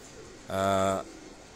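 A single loud, close pigeon coo lasting about half a second rises out of quiet background on a rooftop pigeon loft in Rawat, Chak Beli Road, with a faint murmur before and after.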